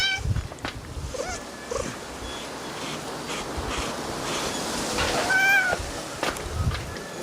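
A house cat meows several times, short mewing calls scattered over a steady background hum, close and moderately loud.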